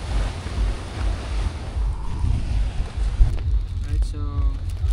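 Sea waves on a beach at a seaside moto-camping spot in northern Cebu, a steady low wash of surf with wind buffeting the microphone, faint tonal chirps near the end.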